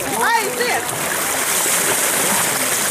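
Water splashes into a boat filled with plaster, a broad watery rush that runs steadily throughout with some nearby voices.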